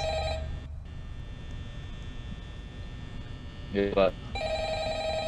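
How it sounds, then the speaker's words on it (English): Steady electronic hum fills a Roblox Five Nights at Freddy's game scene, with a brief ringing burst of a phone near the end and a voice speaking briefly over it. "The phone?"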